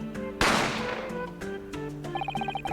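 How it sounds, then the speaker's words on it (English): A single sharp gunshot sound effect bursts out in The Great Ace Attorney Chronicles, a loud crack with a decaying tail over plinking, tonal game music and chiming notes. "A gunshot rang out"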